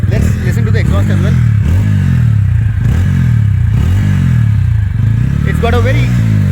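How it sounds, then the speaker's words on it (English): A TVS Ronin motorcycle idles loudly up close with a deep, bassy exhaust note, rising in a few revs, while people talk over it. "Can you turn the engine on and rev it for me, please?"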